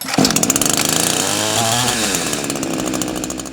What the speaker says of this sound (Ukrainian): Після того заведіть пилу ще раз.